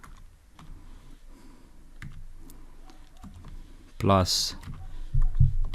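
Computer keyboard keys tapped in quick irregular bursts while coding Python, close and clear, under a voice speaking.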